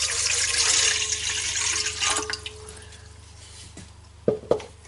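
Water pours steadily into a bowl for rye bread dough, then thins to a trickle and ends with a couple of close drips and small splashes, no one speaking.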